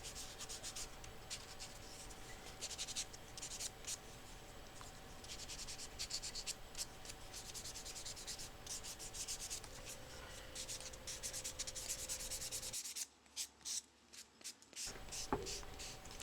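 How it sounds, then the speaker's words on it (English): Steady, close scratchy rubbing of a fine sanding sponge across an edge, repeated in short strokes, pausing briefly near the end. "I then give the edges a quick sanding with a fine sanding sponge."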